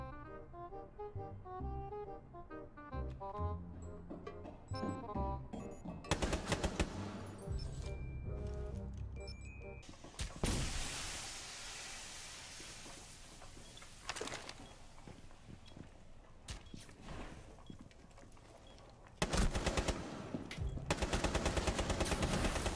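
Gunfire in the Rainbow Six Siege video game, scattered shots and short bursts at varying distances over background game music and effects, growing louder toward the end.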